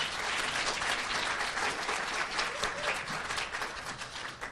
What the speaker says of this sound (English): could I please have a round of applause for Alex?